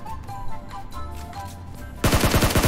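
Gunshots in the mobile battle royale PUBG Mobile: quieter game ambience and faint distant pops, then a sudden loud, close burst of rapid automatic fire near the end.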